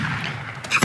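Short explosion sound effects in a Godot Asteroids video game, a couple of quick crunchy bursts in close succession, fairly loud and alone.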